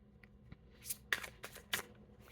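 Tarot cards being handled and laid out during a reading: faint, soft paper flicks and slides, a few short swipes spaced apart in a quiet room.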